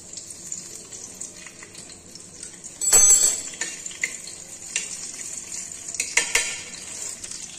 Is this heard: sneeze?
no